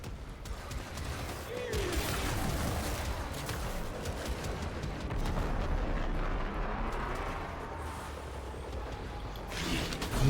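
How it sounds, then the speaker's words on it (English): Bombs exploding in the Warframe shooter game, heard as a steady, heavy rumble of blasts and mechanical clatter that continues without a break, with a few sharper hits near the end. "Where are these bombs coming from?"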